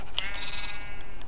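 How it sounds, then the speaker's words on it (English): A baby sheep in a Minecraft world lets out one clear, sustained bleat, close and fairly loud, over faint background noise. "Want a baby sheep?"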